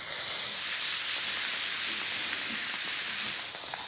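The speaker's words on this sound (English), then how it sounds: "Listen for the sizzle." Steady, broadband sizzling hiss of beef browning in a piping hot pan with a little oil, loud and continuous, easing slightly at the very end.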